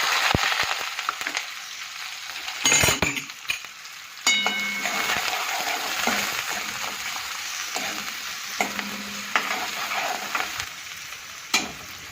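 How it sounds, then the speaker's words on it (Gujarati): Curry leaves and onion sizzle and fry in a pan, with soft continuous crackle broken by occasional sharp spatters and stirring scrapes, no talking. "ચાલો હવે મીઠી લીમડી અને ડુંગળી નાખી દઈએ અંદર સુકાવા"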